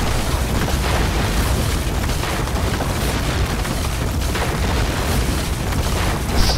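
Buildings blowing up and collapsing during a city siege in the strategy game Medieval 2: Crusades, a dense, continuous wall of loud rumbling booms and crashing debris with no pauses throughout.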